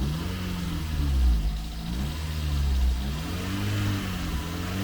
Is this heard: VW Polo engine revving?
yes